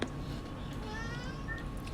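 A house cat meows faintly over a steady, noisy background, with a couple of short rising calls.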